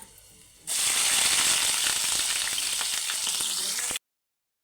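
Onions dropped into hot oil in a pan for a dry prawn curry burst into a loud, dense sizzle that holds steady for about three seconds, then cuts off abruptly.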